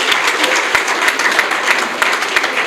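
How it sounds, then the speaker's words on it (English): Applause from a seated staff audience for an award winner, a driver, at a company's end-of-year retreat and award ceremony: dense, steady clapping that carries on without a break. "Can we give Patengom a round of applause?"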